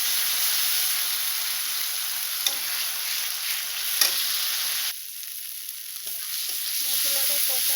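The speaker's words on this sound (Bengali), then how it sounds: "মশলাটা কষানো হয়ে গিয়েছে" A pan of spice paste is stir-fried with a loud, continuous sizzle and hiss, dipping briefly midway before resuming, with faint scraping from the stirring and no talk.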